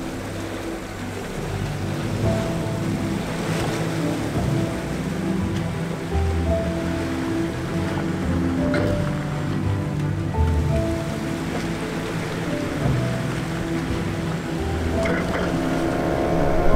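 A vehicle crosses a river in the Utah desert backcountry, its engine droning steadily under continuous rushing, splashing water for several seconds at moderate loudness.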